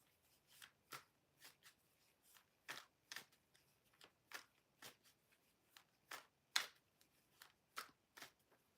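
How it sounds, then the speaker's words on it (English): Tarot cards being shuffled by hand in a quiet room, a steady run of soft, close riffling bursts spaced about half a second apart, with no talking. "I'm just shuffling cards and talking."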